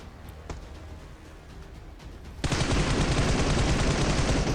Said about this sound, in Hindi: तभी सामने से फुल बूम बम वाली फायरिंग चल रही थी।